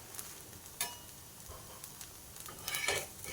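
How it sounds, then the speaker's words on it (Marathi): Sabudana thalipeeth roasts in a pan over a low flame, a faint, steady sizzle close by with a few soft scrapes and light clinks, and no voices. "याला मंद आचेवर भाजायचं, जास्त मोठा गॅस नाही करायचा"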